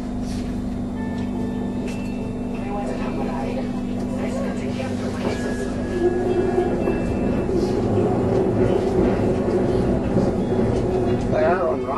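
Riding aboard a Bangkok Skytrain, the carriage hums and rumbles steadily along the elevated rails with a sustained motor whine, some clatter and a few faint tones, while people talk inside the car.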